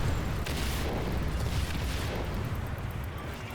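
Dense, continuous blast rumble from explosions in the video game Second Extinction, a loud, heavy low roar with overlapping booms that slowly fades toward the end.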